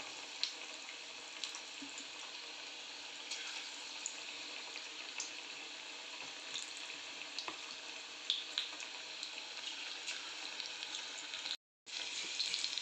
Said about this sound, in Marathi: तेल तापलंय आता आपण एक एक सिमला याच्यात सोडून दिले